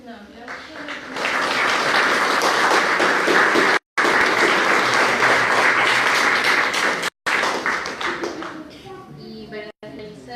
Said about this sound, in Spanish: Tenemos un aplauso